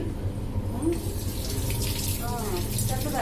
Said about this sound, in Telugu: ఇంకా బాగా వాటర్లో ఇంకా బాగా కడిగి చల్లారిస్తే బాగుంటుంది